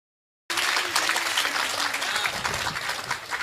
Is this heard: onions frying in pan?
no